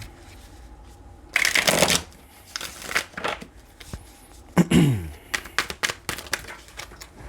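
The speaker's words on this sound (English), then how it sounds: "All right, our last shuffle." Tarot cards are riffled and shuffled up close in several brisk bursts, crisp flutters separated by quieter handling and soft taps.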